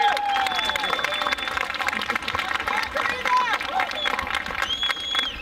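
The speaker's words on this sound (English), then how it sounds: "How about a big round of applause for our drum line?" Crowd applause and cheering for a drum line at a youth baseball opening day ceremony outdoors, steady dense clapping mixed with whistles and shouts across the whole stretch, with crowd chatter underneath.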